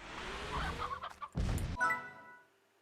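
Young chickens in the farming game Slime Rancher give a few quiet clucks and squawks in a brief burst, with no talk over them.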